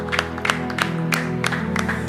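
A church congregation claps in a steady, even rhythm along with ongoing music, the hand claps landing about three times a second throughout.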